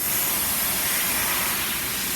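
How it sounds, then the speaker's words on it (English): Compressed air is blown around the edge of a Range Rover Evoque windscreen while checking for water leaks. It makes a continuous, close, loud hiss with no pauses. "compressed air."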